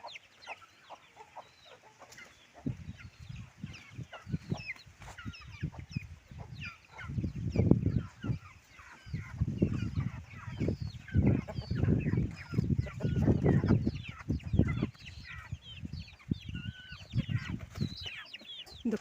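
Native country chickens in a coop, with a hen and her separated chicks, cluck and chirp steadily at close range, several birds overlapping in louder bursts through the middle.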